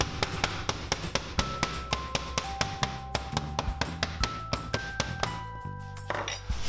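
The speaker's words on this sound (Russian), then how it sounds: "бьем и немножко оттягиваем в сторону молотком" A meat mallet pounds chicken leg meat under plastic film, a rapid series of sharp, close thuds repeating steadily over a background of music, with no talking.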